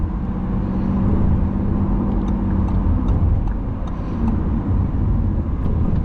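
A Lamborghini Revuelto V12 cruises at a steady, moderate pace toward an Autobahn entrance, its engine making a continuous low hum mixed with road and cabin noise from inside the car, with no sharp revving.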